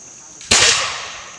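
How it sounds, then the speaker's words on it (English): A single sharp, loud cannon blast bursts out suddenly at a battlefield demonstration, then trails off into a long rumbling decay. "Cannon."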